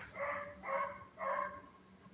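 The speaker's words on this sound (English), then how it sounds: "that beagle out there barks and barks" A beagle barking outside, three evenly spaced barks at a moderate distance, with no talk over them.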